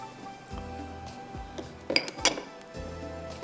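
A lid set onto a cooking pot of aloo zeera pulao spiced with star anise and a little nutmeg gives two sharp metallic clinks close by, amid faint kitchen clatter and low background hum.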